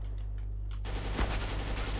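Automatic rifle fire in Counter-Strike: Global Offensive, a sudden loud close burst cutting in after a quiet start and continuing with a sharp peak mid-clip, no talk over it.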